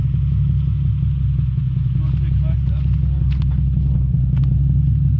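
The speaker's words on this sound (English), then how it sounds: "That's exhaust." A Nissan 350Z's deep, steady exhaust rumble drones close by, with faint voices briefly audible over the low engine note.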